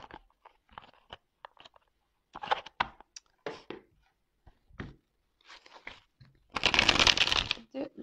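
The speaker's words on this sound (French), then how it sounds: "je prends une petite carte." Oracle cards are drawn and handled, with soft shuffling riffles, taps and brief paper slides in short bursts, ending in a longer rustling shuffle.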